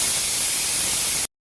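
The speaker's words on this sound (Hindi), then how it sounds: "सांभर में छौंक लगाने के लिए छौंक तैयार कर रही है प्राची" Tempering spices for sambar hiss and sizzle in hot oil in a home kitchen, a steady, loud broadband crackle that runs unbroken and then cuts off abruptly.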